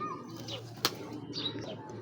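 A pair of red racing Giribaz pigeons coo softly close by, with a brief flutter of wings and faint chirps over a quiet background hum.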